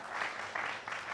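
A brief stretch of steady crowd applause, dense and even, with no other sounds standing out.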